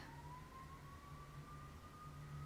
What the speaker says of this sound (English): I don't know if y'all can hear that siren in the background,